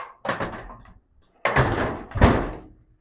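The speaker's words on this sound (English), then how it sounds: "I'll just pop this door open" The door of a 1949 Chevy pickup truck is handled close up: a couple of solid metallic clunks and rattles of the latch and hinges, with brief quiet gaps between them.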